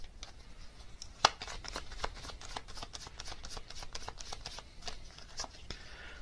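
Tarot card deck shuffled by hand, a quick run of crisp riffling snaps and slaps in an uneven rhythm, close and fairly quiet, with one sharper tap near the start.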